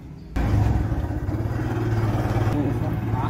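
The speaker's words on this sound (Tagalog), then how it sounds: "Sakay na lang tayo ng tricycle" A tricycle engine runs steadily with a close, buzzing hum while riding, and voices talk over it.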